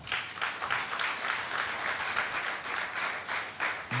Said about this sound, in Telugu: క్లాప్స్ కొట్టాలి, గట్టి కొట్టాలా